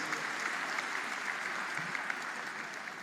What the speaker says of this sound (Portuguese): Queria uma salva de palmas para as mulheres, prefeitas, vice-prefeitas.